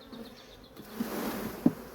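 A steady, soft buzzing of honeybees hovers nearby at an apiary, with a couple of brief closer passes and light handling noises.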